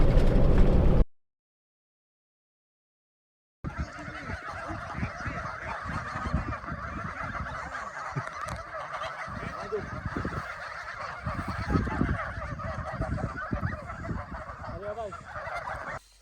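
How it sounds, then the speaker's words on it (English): Geese honking at a campsite in the French mountains, a busy flock calling over and over at close to middle distance, loud and steady, after a short burst of other noise and a gap of silence. "So we watched the geese going to bed"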